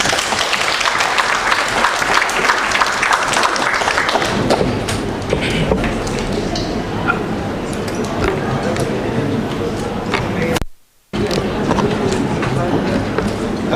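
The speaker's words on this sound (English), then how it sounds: "A round of applause to mwalimu" Applause at a conference hall, a dense sustained clatter of many hands clapping that thins out over time, with voices talking under it and a brief dropout near the end.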